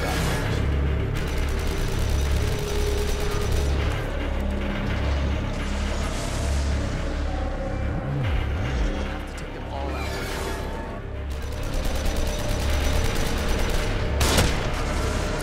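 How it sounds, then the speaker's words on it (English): Enemy gunfire in The Evil Within, dense and loud with repeated shots and mechanical clatter among busy game sounds, and a voice talking over it. "They're shooting from above."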